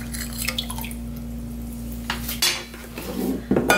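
Salt water is poured into a bowl to wash fresh oysters, with clinks of the bowl and dishes, a steady low hum underneath, and a short watery splash near the end.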